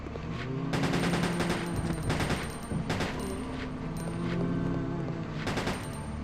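Rapid automatic pistol fire in Resident Evil Code Veronica crackles in several dense bursts over a steady game background, loud and close, with brief gaps between volleys.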